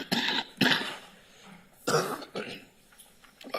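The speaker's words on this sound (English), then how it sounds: "My first apology is for my cough," Coughing from a person at a council meeting, several separate rough coughs close to the microphone, spaced out with quiet gaps between them in a hushed room.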